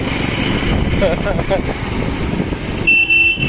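A vehicle horn sounds briefly near the end amid road traffic noise beside a Nissan One Ton truck, with a steady tone at first and voices talking under it.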